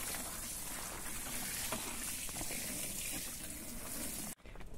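Water pours steadily onto newly planted lettuces in a greenhouse, a close, continuous wash that stops abruptly near the end.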